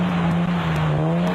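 Off-road race trucks, among them a Nissan, churn through slush at a South African off-road race at Barberspan, giving a loud, steady engine drone that runs without break and carries a faint high whine over it.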